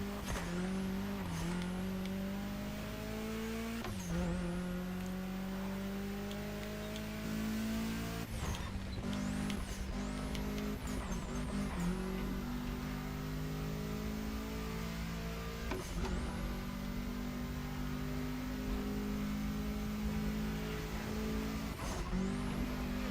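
Honda race car in The Crew Motorfest video game, its engine revving hard and climbing through gears with repeated upshifts, tire squeal and skids, steady and continuous with no talking.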